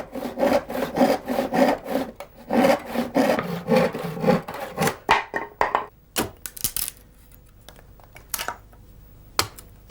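A handsaw rasps through resistant beech wood, cutting boards for a handmade pack saddle: rapid, steady back-and-forth strokes, close and loud, that slow and break into a few scattered knocks and scrapes before ending.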